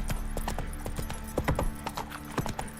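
The horse Roach from the Witcher 3 video game clip-clops steadily at a walking pace, hooves landing in a close, clear rhythm over a low game background, with no talk.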